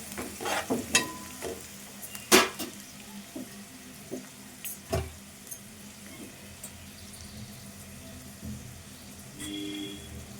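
A spoon clatters intermittently in a pan of frying dried fish curry with curry leaves and turmeric, over a faint steady sizzle, with a few sharp scrapes early on.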